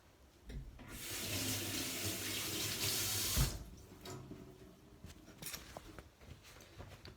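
A cup rinsed under a running kitchen tap: water gushes loudly into the sink for about two and a half seconds, then stops, followed by quieter drips, clinks and handling sounds.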